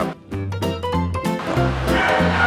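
A dog barks several times in quick succession over a continuous background of music or rushing noise, at home, the dog being a well-known performer from a Thai TV drama.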